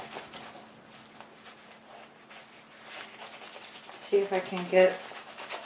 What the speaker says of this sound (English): Alright, I'm going to burnish this on there.